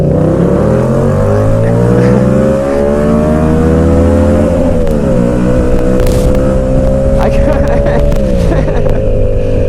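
A motorcycle accelerates hard from a rolling start in first gear, engine note climbing loud and close through rising revs with brief dips between pulls, under wind noise.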